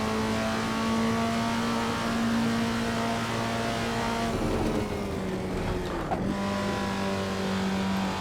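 A classic Datsun 240Z engine racing around a track in Assetto Corsa, a steady loud drone that dips and shifts pitch mid-run before climbing again, heard alone with no voices.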